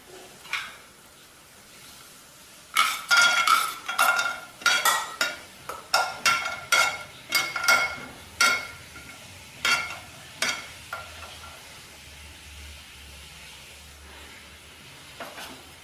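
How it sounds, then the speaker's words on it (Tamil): Cashews fry in ghee in a pan for wheat rava kheer, with a low sizzle under a rapid run of close, sharp scraping and clinking stirs that fade toward the end. "இப்போ நம்ம நெய்யில் வந்து முந்திரி பருப்பை வறுத்து போட்டுருவோம்."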